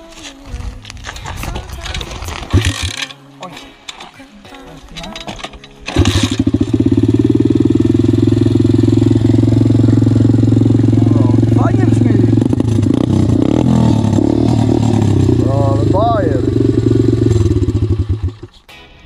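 A KXD 125 Pro dirt bike is kicked over and fires up, its single-cylinder engine settling into a loud, steady idle with occasional throttle blips, close by, while people talk around it.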